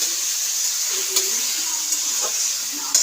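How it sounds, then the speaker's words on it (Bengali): Onions lightly frying in a pan give off a steady, close sizzle and hiss, broken by a few sharp clicks of stirring. "পেঁয়াজটাকে একটু ভাজা হোক"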